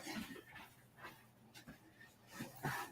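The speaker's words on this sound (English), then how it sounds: "my dog is whining" A dog whines and whimpers faintly in short, intermittent bursts, with soft panting-like breaths in a quiet room.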